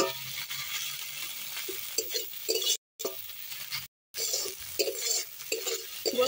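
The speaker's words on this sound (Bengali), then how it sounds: "আদা রসুনটা একটু তেলের মধ্যে ভেজে নেব যাতে আদা রসুনের গন্ধটা চলে যায়।" Ginger and garlic frying in hot oil: a steady close sizzle with a spoon stirring and scraping around the pan, broken by two brief silences, no voices.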